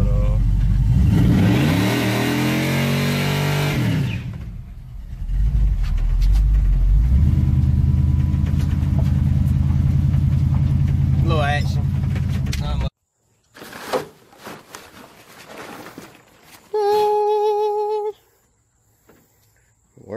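A 1992 Chevy Silverado pickup with worn tires revs loudly while accelerating for about twelve seconds. The engine then cuts off, leaving a few clunks and a brief electronic tone.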